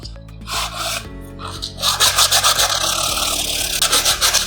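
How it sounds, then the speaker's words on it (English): Hand sanding of a wooden bird house, with steady rhythmic rasping strokes of sandpaper on wood, close and fairly loud, quickening into dense repeated scrubbing. "we are going to start sanding this"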